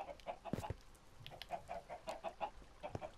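Several chickens cluck in short, repeated bursts in the video game Minecraft, quiet and evenly spaced with no talk over them.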